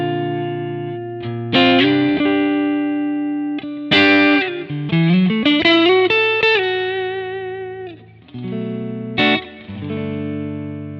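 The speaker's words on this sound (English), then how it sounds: "here's what that clean tone sounds on its own" A clean electric guitar tone from a Quad Cortex preset with reverb rings out in picked chords and single notes, each phrase sustaining and decaying in ambience, played alone without talk.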